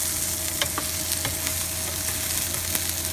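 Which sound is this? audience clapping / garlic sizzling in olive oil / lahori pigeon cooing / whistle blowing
garlic sizzling in olive oil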